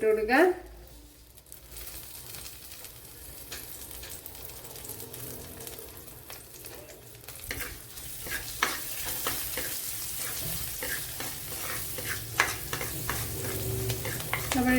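Garlic cloves, a small piece of ginger and two green chilies fry in a teaspoon of coconut oil for a tuna fish curry, giving a steady close sizzle with stirring scrapes that grows busier in the second half; no speech.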